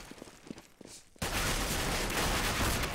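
Gunfire in Counter-Strike on the de_inferno map during a 2013 ESWC pro match: after a second of near-quiet, a loud, dense fusillade of overlapping shots erupts and rolls on without a break.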